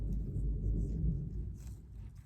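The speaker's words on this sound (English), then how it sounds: "Some intense thunder." Intense thunder rolls as a deep, sustained rumble for about two seconds, swelling and easing at a fairly steady, moderate level.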